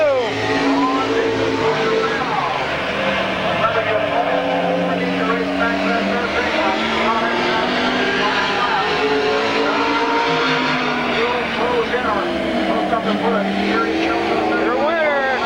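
Race cars roar around the Midvale Speedway oval during a 1995 race, engines droning and shifting pitch continuously as they pass, loud and steady throughout with no break.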